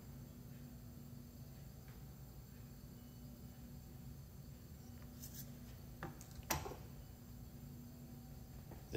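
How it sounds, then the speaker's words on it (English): A scribe or marker drawing a line across a strip of sheet metal for a round reducer pattern, a quiet steady scratching under a low hum, with a couple of brief sharper clicks near the end. "Make a mark like we did earlier and draw a line pointing towards the apex."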